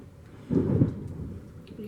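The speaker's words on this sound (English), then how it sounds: "You hear that's lightning and thunder right now." Thunder rolling during a thunderstorm, a low rumble that swells suddenly and then fades, heard indoors at a moderate distance, with no talking.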